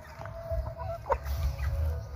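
Chickens clucking on a backyard farm, a few soft short clucks rising over steady low rumbling background noise, fairly close and moderately quiet, with no talk.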